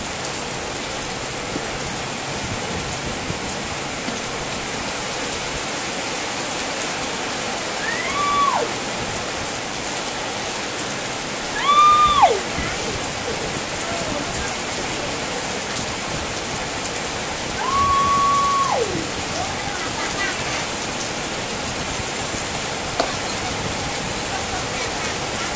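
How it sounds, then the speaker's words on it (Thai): Heavy rain pours down steadily in a continuous loud wash, with a few short whistle-like sliding tones rising above the downpour. "ฝนเทลงมาเทลงมาเทลงมา"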